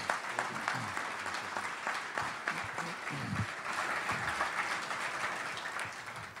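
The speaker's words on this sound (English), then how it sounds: "please join me in providing Dr. Kezirian a thunderous round of applause" Audience at a college award presentation applauding Dr. Richard Kezirian, steady dense clapping from a sizable crowd, moderately distant and fading slightly toward the end.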